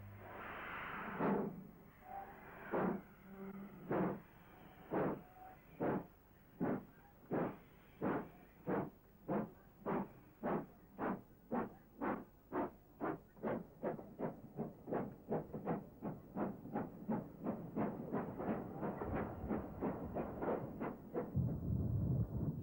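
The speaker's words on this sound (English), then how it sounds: "King Class locomotive number 6016, King Edward V, at Birmingham Snow Hill." A King Class steam locomotive, number 6016 King Edward V, at Birmingham Snow Hill, moving off with loud exhaust chuffs that start slow and spaced, then quicken into a fast, even rhythm, with a roar building at the end.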